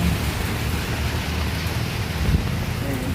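Heavy rain pours steadily in a village near Nainital, a dense, continuous hiss that stays loud and close throughout, with a faint low rumble beneath and no clear talking.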